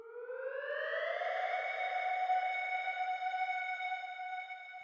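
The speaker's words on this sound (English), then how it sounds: "we've got this siren" Synthesized siren effect in a breakbeat track, a steady tone with a pitch bend rising over the first second, then holding a loud, sustained wail alone with no voices.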